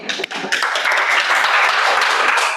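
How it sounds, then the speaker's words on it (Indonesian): A room of students bursts into applause, a dense burst of hand clapping that starts after a brief pause, near and loud, with a few isolated claps at the start. "Give him applause"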